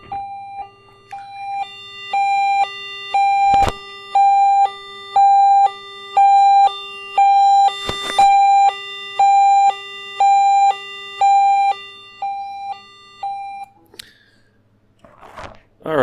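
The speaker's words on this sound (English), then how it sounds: "let you hear what the siren sounds like" Electronic siren tone from an Arduino project, a loud buzzy two-pitch warble alternating steadily for about thirteen seconds, interrupted by a couple of sharp clicks, then stopping with brief handling noise.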